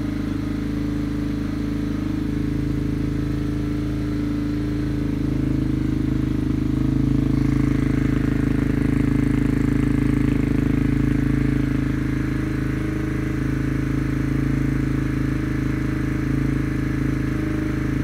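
A Yamaha TTR230 dirt bike engine idles steadily and close by, a constant low putter with a slight swell in the middle and no voices.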